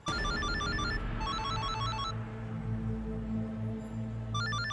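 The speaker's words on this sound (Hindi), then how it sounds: "फोन की आवाज कहाँ से आ रही?" A phone ringtone plays loudly in a quiet indoor room, a repeating electronic melody with steady beeping tones that pause briefly and then resume, continuing for several seconds with no talk over it.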